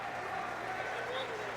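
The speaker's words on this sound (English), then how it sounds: "Look at that crowd clapping" A gallery crowd at the 2006 US Open of four-wall handball, men's semifinals, claps in a thick, continuous patter of many hands that stays even throughout, with voices mixed in.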